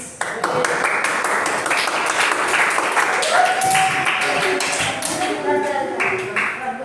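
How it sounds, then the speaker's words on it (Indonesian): Students in a science classroom clap together, loud, close, uneven claps with a few sharp taps standing out, while voices speak over it in the room. "sama tepuk tangan dulu"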